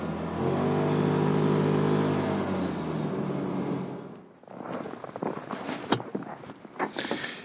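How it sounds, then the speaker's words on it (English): Inside the cab of a 2019 Can-Am Defender UTV, the engine roars loudly under acceleration for several seconds, then the drone drops away, leaving rattles, bumps and clatter of the ride. "this thing's got a lot of acceleration and you can get a lot of top end speed out of it, but inside the cab here, it isn't exactly quiet"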